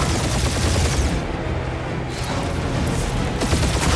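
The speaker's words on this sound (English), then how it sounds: "We're taking fire!" Dense, loud gunfire from a battle in the Marvel's Guardians of the Galaxy video game, a continuous volley of shots and blasts with no speech.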